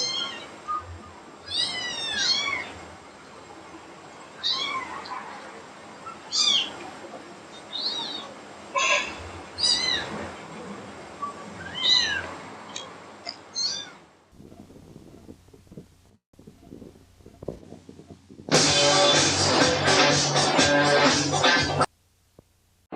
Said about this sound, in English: meow, meow, meow, meow, meow, meow